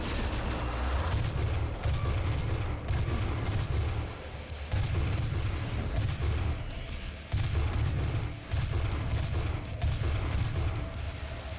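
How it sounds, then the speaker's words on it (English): Dense, loud combat din from Doom (2016) on Nightmare difficulty with heavy low booms and gunfire-like bursts, an exploding barrel blowing up amid continuous thuds and brief pauses, no voices. "Yep, that's an exploding barrel."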